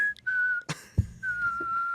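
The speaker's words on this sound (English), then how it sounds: "just let him whistle for your entertainment" A person whistles a steady, sustained tune, briefly interrupted by a soft thump and shuffling noise before the clear whistled melody resumes, fairly close and alone.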